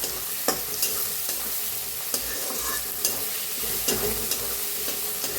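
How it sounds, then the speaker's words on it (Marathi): Onion and tomato fry in a pan, a steady sizzle broken by regular sharp scrapes and taps of a spoon stirring against the metal, close and moderately loud. "कांदा छान भाजलाय त्याच्यात टमाटो बी टाकून घेतले तंबाटो बी छान असं भाजून घेऊया"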